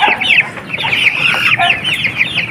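Chickens cluck continuously and close by while eating branded feed, a busy overlapping chorus of short clucks with no talking.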